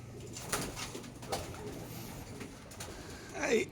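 Trained racing pigeons coo close by in low, soft, repeated calls, with a brief rustle near the end.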